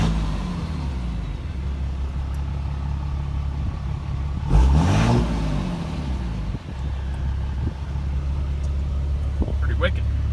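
A 2016 Dodge Ram 3500 with a 6.7L Cummins diesel, tuned, idles loudly then revs once in a sharp rising-and-falling surge near the middle before settling back to a steady rumble.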